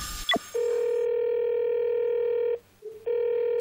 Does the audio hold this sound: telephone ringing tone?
yes